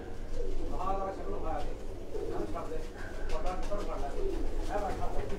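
Prized fancy pigeons coo in a room, steady low throaty calls repeating close by with voices mixed in throughout.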